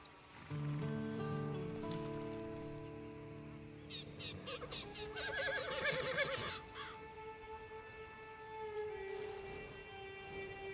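A horse in the video game Red Dead Redemption 2 whinnies with a shaky, rising neigh partway through, set against a steady layer of sustained tones and music.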